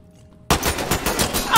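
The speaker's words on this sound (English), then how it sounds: "How many times do I have to shoot a guy?" Rapid gunfire in the tactical shooter Ready or Not, a loud close burst of repeated shots bursting in after brief quiet and continuing steadily to the end.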